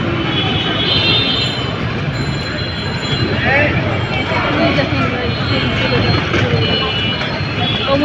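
A train rolls past on its way to Kamalapur station, a loud continuous rumble with rattling wagons and some faint wheel squeal, close and sustained from start to finish.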